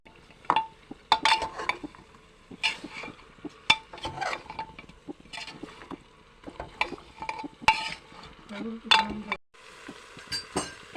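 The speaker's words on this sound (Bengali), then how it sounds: "এখনো কষানো চলতেছে" Cow legs are sautéed with spices in a pot: a spoon scrapes and clinks against the metal in irregular bursts over a faint sizzle, close and fairly quiet.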